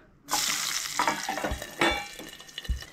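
Garlic dropped into hot oil for a Goan tempering, bursting into a loud, bright sizzle that continues steadily with occasional stirring clatter, up close in a kitchen.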